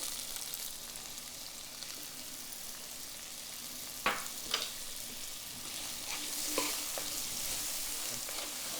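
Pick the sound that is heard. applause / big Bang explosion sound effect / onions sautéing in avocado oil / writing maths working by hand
onions sautéing in avocado oil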